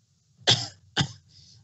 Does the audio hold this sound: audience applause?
no